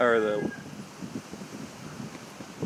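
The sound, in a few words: wind blowing into microphone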